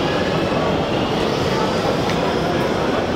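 A Munich U-Bahn subway train rumbles steadily, a dense continuous roar of wheels and motors heard from close by, with no distinct breaks.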